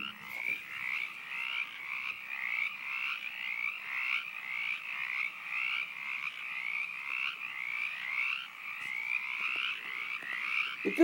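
A frog croaks loudly and steadily in a rapid, regular pulsing call that keeps going without a break, close up, with no talking.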